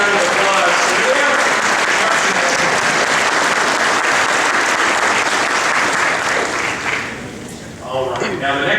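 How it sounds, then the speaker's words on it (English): An audience at a Washougal High School 100th anniversary ceremony gives a family a sustained round of loud applause that fades near the end as a voice begins speaking. "And let's give them a round of applause."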